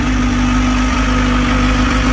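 A new motorcycle's engine idles close up, a loud, steady low rumble with constant vibration and no talk over it.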